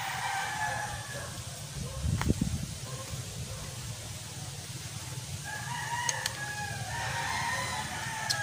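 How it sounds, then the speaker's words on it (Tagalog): Chickens cluck and a rooster crows at a distance, fairly faint against outdoor background noise, with a sharp knock near the middle. "May manok ulit na nagkakalkal."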